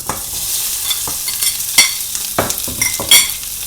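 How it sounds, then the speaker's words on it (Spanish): Prawns sautéing in a hot pan hiss loudly and close, broken by repeated scraping and clattering stirring strokes at an uneven rhythm, with no talking. "Venga, vamos a saltear los langostinos."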